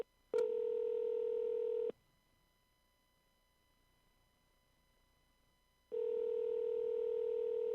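A telephone call being placed produces two long, steady electronic phone tones, each lasting about one and a half seconds, separated by several seconds of near silence. The tones are clear and alone, with no one talking.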